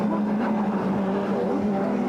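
Super touring race cars at the 1996 South African championship round in Port Elizabeth, with last year's works Audi overtaking, heard as a steady droning engine roar, close and continuous, with a slight pitch rise near the end.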